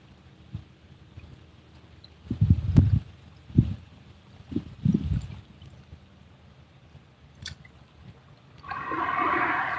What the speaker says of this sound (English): That was like a 30, 40-pound fish just did a backflip out of the water right behind me.